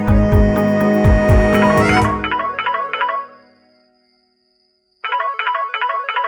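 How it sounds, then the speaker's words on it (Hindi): A melodic phone ringtone plays loudly in repeating bursts over music, stops for a couple of seconds of silence, then starts again. "डैडी जी का फोन है, उठाना तो पड़ेगा ना।"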